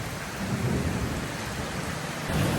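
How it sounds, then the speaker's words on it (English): Rain pours steadily during a storm in Pokhara, Nepal, with a dense wash of drops and low rumbling thunder swelling faintly in the distance, no voices present. "the lightning and the thunder are so far apart"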